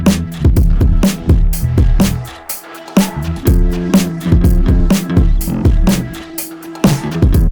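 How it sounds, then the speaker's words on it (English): Compressed, fat-mixed bass guitar plays a punchy rhythmic line with steady low-end notes in a full mix, loud and continuous with no talking. "you should have a fat sounding bass that sounds like this."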